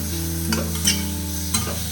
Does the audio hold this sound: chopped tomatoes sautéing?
yes